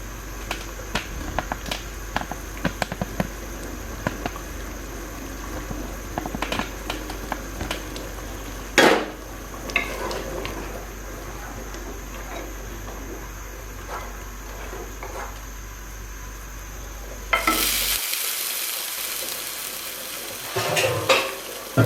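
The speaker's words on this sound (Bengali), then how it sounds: "ডালে বলক চলে এসেছে এবার চুলা নিভিয়ে এটাকে আমি কিছুক্ষণ ঢেকে রাখবো" A pot of arum spinach dal bubbles toward a full boil, giving a steady simmering crackle with scattered stirring clinks and a sharp rise in hiss near the end.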